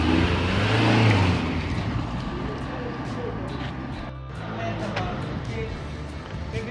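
A big BMW M6 being moved, its engine revving and rumbling up close, with loud swells of throttle under people talking.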